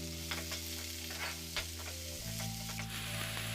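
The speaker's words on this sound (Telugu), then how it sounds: "కొంచెం జీలకర్ర, ఇప్పుడు ఉల్లిపాయలు వేసుకోవాలి." Chopped onions and cumin seeds frying in hot oil for masala idli, a continuous close sizzle with stirring scrapes and a steady hum running underneath.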